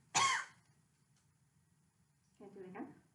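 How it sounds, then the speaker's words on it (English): A patient coughs on request during a lung exam: one sharp, close cough, then a quiet pause before speech. "Go ahead and cough for me."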